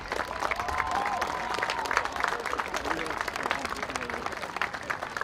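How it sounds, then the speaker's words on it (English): Crowd applause at a youth baseball opening day ceremony for an executive committee member, steady dense clapping with some cheering throughout, a voice faintly audible underneath. "A round of applause for Ed."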